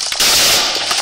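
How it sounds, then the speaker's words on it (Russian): A Minecraft explosion bursts loud and close, a broad crackling roar that swells after a brief start and rumbles on with scattered pops for the rest of the moment. "Нормальный такой взрыв."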